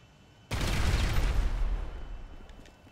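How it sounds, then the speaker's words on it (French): A sudden loud blast from C4 explosives in GTA 5 after pistol fire, a booming eruption that hits at once and rumbles on, slowly fading over a couple of seconds. "on prend un pistolet, on va viser le C4, le premier, et on va voir si la réaction en chaîne fonctionne"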